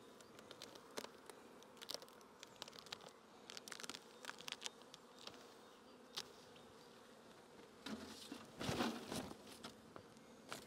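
Honey bees buzz around an opened hive during an inspection, a steady low drone with darting close passes and scattered light clicks, swelling louder near the end; no one speaks.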